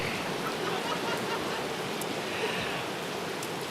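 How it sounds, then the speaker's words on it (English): Rain falling steadily at an outdoor high school graduation ceremony, a dense even hiss of drops with no talking over it. "So apparently it is going to rain on our parade today."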